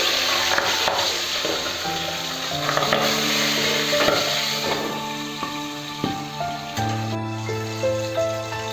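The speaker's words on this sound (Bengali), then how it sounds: "এই মাছও কিন্তু ফাটে, একটু দেখে ভাজতে হবে" Boal fish fries in a hot pan with a steady sizzling hiss and scattered sharp pops of spattering oil, heard close up over a faint tonal hum.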